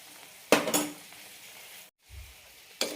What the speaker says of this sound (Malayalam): കറി തിളയ്ക്കാൻ തുടങ്ങിയിട്ടുണ്ട് ഇളക്കാം ഇനി ലോ ഫ്ലെയിമിലാക്കി വേവിച്ചെടുക്കാം